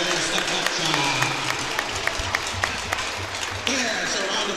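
Applause from a hockey crowd in an arena, a steady wash of clapping heard from a distance, with a voice over the public address speaking across it.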